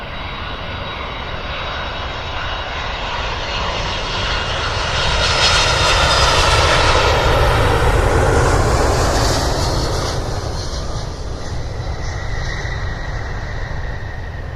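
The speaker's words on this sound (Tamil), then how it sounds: "இந்த வித்தியாசமான விமானத்தை பார்ப்பதற்கு நிறைய பேர் அந்த பகுதியில் கூடியிருந்தார்கள்" An unusual airplane passes overhead, its loud droning engine roar swelling to a peak midway and then easing off, continuous for the whole stretch with no talking.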